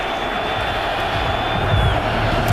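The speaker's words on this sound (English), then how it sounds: "This crowd making some noise" A large crowd at a college football stadium during an Iowa State game roars in a continuous, loud, broad wash of cheering that swells slightly near the end.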